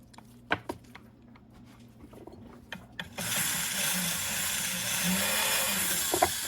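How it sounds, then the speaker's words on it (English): Felt mops on a rotary tool polishing bronze metal clay, a few faint taps and knocks at first, then a steady close hissing whir of the spinning mop against the metal that continues to the end. "And then I take the same 2 polishes that I used with the jewel tool. And get some felt mops."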